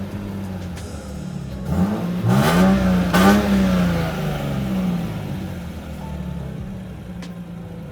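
Lexus IS200 with a modified throttle body, idling then revved twice, pitch sweeping up and back down, loud and close before settling to a steady idle hum; a brief voice exclamation is heard.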